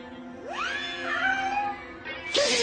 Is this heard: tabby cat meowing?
yes